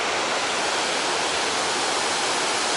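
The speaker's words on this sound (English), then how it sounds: "There's the waterfall right there." Waterfall near Llyn Ogwen in Snowdonia, swollen after recent rain: a steady, dense roar of rushing white water close by, continuous and broadband with no pauses or voices.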